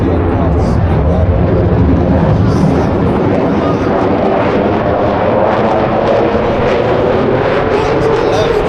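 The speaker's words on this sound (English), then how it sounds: "Pitch the aircraft up into the rolling orbit. Put it over the top, watch the aircraft speed up." Display aircraft flying aerobatic manoeuvres at the Blackpool airshow, a loud continuous roar that swells and fades across the passes while a commentator talks over it.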